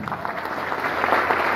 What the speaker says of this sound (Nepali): जोरदार ताली आफ्नो लागि।